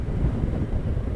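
Gusty wind buffets the microphone on an exposed hill crest on a dull day, a steady low rumbling roar with no voices.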